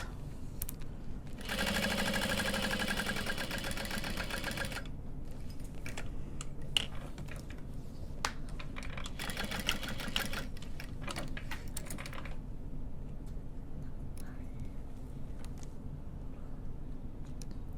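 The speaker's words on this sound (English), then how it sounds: "so I'm just going to be extra careful with the way I'm top stitching" A sewing machine top-stitches a handbag, running in two steady bursts of rapid mechanical stitching with quieter handling and clicks between them, alone with no talk.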